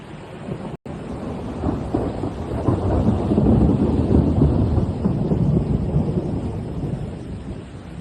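Severe thunderstorm striking Spain: loud, steady rainfall with deep rumbling thunder swelling in the middle and rolling on throughout, heard alone without voices.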